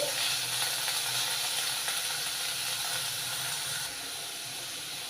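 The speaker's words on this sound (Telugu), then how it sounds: "కరివేపాకు ఈ ఉల్లిపాయలు అనేవి బ్రౌన్ కలర్ వచ్చినంత వరకు వేయించుకోవాలి" Onions and curry leaves fry in a pan until browning, giving a steady, even sizzle and hiss that runs throughout and drops slightly in level near the end, with no talk.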